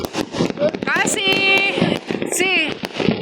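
New Year fireworks going off in a series of sharp crackling pops and bursts, some with whistling rising tones, mixed under people's excited voices nearby.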